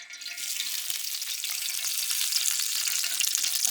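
Curry leaves crackle and sizzle in hot oil, a bright, continuous hiss that grows slightly louder, with no voices.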